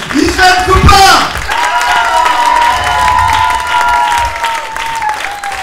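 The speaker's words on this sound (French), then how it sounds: "vous pouvez l'applaudir, István Kupár" A crowd applauds and cheers in welcome for solo sailor István Kupár arriving on stage at Les Sables-d'Olonne after 63 days alone around the world, with dense loud clapping, scattered shouts and overlapping voices throughout.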